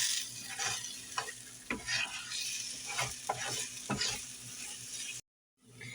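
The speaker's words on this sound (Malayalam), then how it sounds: "ഇനി എല്ലാം ഒന്ന് മിക്സ് ചെയ്തെടുക്കാം." Egg being stirred and mixed in a hot pan with sautéed ingredients, giving steady sizzling with scrapes and clacks of the spatula, close and fairly loud, with a brief drop to silence near the end.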